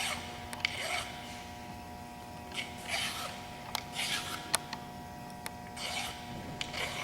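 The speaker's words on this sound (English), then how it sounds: "We'll deburr this end down here." A metal hand file deburring the cut end of a metal piece, giving several short, quiet rasping strokes spaced apart with small clicks between them, close by with no talking.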